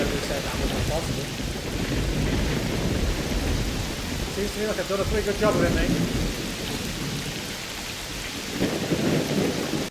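Heavy rain pours loudly and without pause in the S.T.A.L.K.E.R. Clear Sky video game, with rumbling thunder underneath and someone talking over the downpour.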